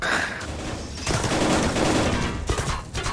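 Rapid bursts of gunfire in an online video game crackle in quick succession, loud and dense, with brief lulls between volleys and no talk.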